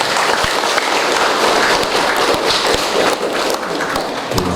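A congregation at a Catholic wedding ceremony bursts into sustained applause, a dense, loud wash of many hands clapping at once throughout.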